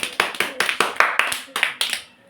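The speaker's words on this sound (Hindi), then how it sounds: "तो जिज्ञासा के लिए एक बार बिल्कुल ताली बजना चाहिए।" A classroom audience claps for a schoolgirl, a dense round of applause with rhythmic bursts that fades out toward the end.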